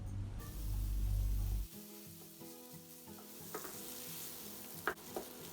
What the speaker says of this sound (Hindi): अब हम तमाम चीज़ों को अच्छे से मिक्स कर लेंगे और 1 से 2 मिनट के लिए मीडियम टू हाई फ्लेम पे इसे कुक करेंगे।